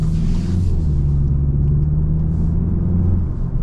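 A 2026 VW GLI engine pulls under acceleration while driving, heard from inside the cabin as a loud, steady low drone and rumble with a faint rising hum and no talk.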